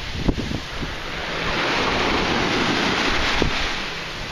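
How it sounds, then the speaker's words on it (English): Ocean surf crashing onto the shore of a bay, a steady loud roar of breaking waves with wind buffeting the microphone and a couple of sharper splashes, no voices. "Look at the waves."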